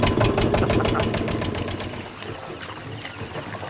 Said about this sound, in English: And here goes the engine.